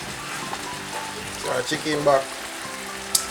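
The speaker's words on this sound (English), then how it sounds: "So, what I do now, I just fry them for a while." Chicken frying in a pan for a Jamaican ackee and spaghetti dinner, a quiet steady sizzle with a few louder crackles and a sharp click near the end.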